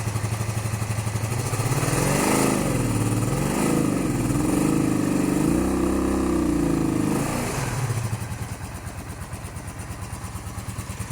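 A four-cylinder cafe racer motorcycle, not firing on all cylinders, revs up from a rough idle through several uneven rises and falls, loud and close, then drops back to a rough idle.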